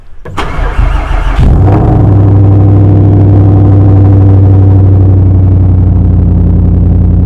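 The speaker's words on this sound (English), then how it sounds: "Let's get a straight pipe cold start on a 2007 Volvo S80 V8." A 2007 Volvo S80 V8 with a straight pipe cold-starting: a brief starter crank, a loud catch and flare, then a steady, rumbling high idle that stays very loud and close.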